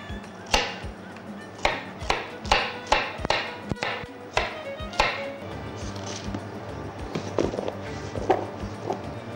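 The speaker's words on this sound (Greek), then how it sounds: "καρότα. Κόβουμε σε φετούλες." A knife chops carrots into rounds on a cutting board for fish soup, a steady run of crisp, close taps that comes quicker and softer in the second half.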